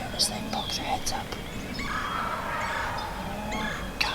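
Wild turkeys gobble and call in the woods, several short bursts at moderate distance over faint outdoor ambience.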